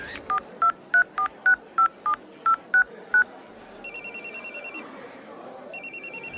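A mobile phone being dialed, eight loud beeping keypad tones in quick succession, followed by two bursts of an electronic ringing tone with a silent gap between them as the call goes unanswered.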